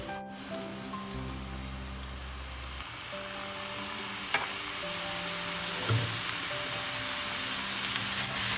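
Restaurant-style mixed fried rice sizzles steadily in a pan as soy sauce is added, a soft continuous frying hiss with a few faint clinks, close and without talk.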